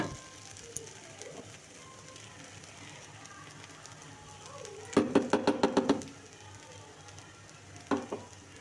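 Food being stirred in a pan after sugar is added, for a vegetarian children's tiffin recipe: a low frying hiss, then a quick run of scraping clicks from the spoon and one more brief burst a few seconds later.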